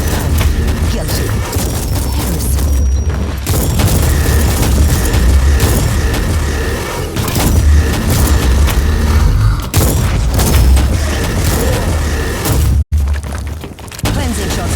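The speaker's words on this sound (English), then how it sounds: "Cleansing shots fired." Gunfire in the Warhammer 40k Inquisitor video game, a dense, continuous barrage of booming shots and cracks over a loud rumbling battle bed, briefly cutting out near the end.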